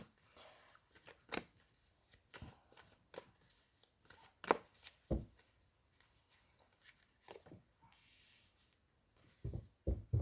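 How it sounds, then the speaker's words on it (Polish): Tarot cards being shuffled during a weekly reading, a run of quick riffling bursts and soft slaps repeating unevenly at close range with no talking. "wybierajcie szybciutko, spontanicznie"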